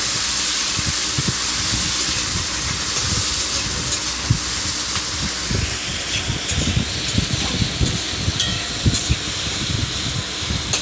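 Onions and green chilli stirred in a hot pan for a spicy Bengali country-chicken curry, with a steady sizzling hiss and frequent soft scraping knocks of the spoon against the pan throughout.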